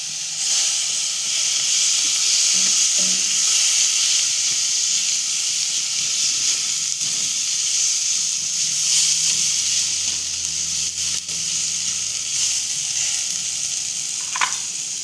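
Finely chopped potatoes frying in a hot pan for a radish-pod vegetable dish, giving off a steady, loud sizzle and hiss throughout, with a few faint clinks of utensils against the pan.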